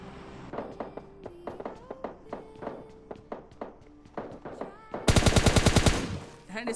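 Gunfire in PUBG Lite, solo against a squad: a series of sharp separate single shots and footstep-like thuds, then a loud rapid automatic burst near the end, close and under no speech.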